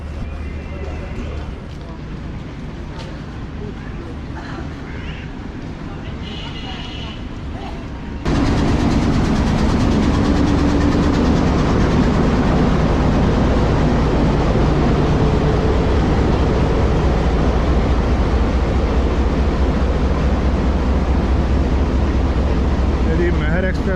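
A Pakistan Railways express train waits at a station after flooding, with a quieter rumble giving way to a loud, steady, close diesel locomotive drone, and voices talk faintly at the start.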